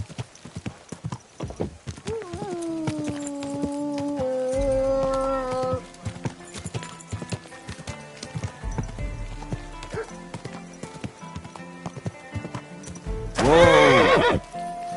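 A horse in the medieval video game Kingdom Come Deliverance 2 lets out a loud whinny, with clopping hooves underneath and a second sharp neigh near the end, under background game sound.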